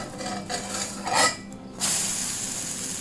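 A moong dosa is flipped on a hot pan, with a brief scrape and clatter of the spatula over a steady low sizzle, and no talking.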